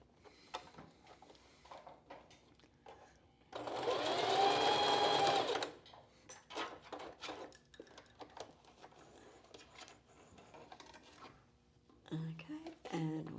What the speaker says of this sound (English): I'm going to stitch as close to the end of each piece of boning as I can, and we're just stitching through the foam and the channeling